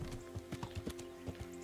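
Horse hooves clip-clop on ground in Kingdom Come: Deliverance, a quick irregular series of close knocking steps over a low steady game hum.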